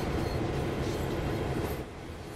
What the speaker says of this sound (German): das ist ja so ein Megazug